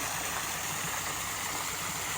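Several water streams from a garden waterfall, adjustable by taps, pour steadily into a pond, making a continuous close rushing splash with no other sounds.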